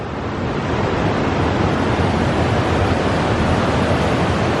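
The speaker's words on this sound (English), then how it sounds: "just adjacent to this little waterfall bit" A small waterfall beside an old canoe slalom course in Bedfordshire gives a steady, dense broadband rush of falling water, close and unbroken throughout with no other sounds.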